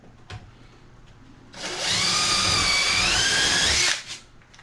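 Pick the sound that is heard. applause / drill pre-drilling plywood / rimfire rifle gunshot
drill pre-drilling plywood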